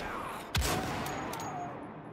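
A single sharp gunshot in the video game Wolfenstein: The Old Blood cracks out once and decays into a quiet, faintly hissing background.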